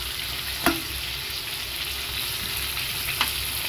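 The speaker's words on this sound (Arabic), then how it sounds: "هجيب الطاسه اللي هعمل فيها السجق واحط فيها معلقه زيت كبيره وانزل بالسجق بتاعي بعد ما تسخن كده تشوح كده" Sausage and thinly sliced onion sauté in a large spoonful of hot oil in a frying pan, giving a steady, close sizzle with a couple of brief clinks as the food is stirred.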